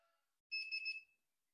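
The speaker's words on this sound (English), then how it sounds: "with the multimeter in continuity. That means with the beep" A digital multimeter set to continuity mode gives one steady electronic beep of about half a second while testing a Mitsubishi 2SC5125 power transistor, heard alone and close.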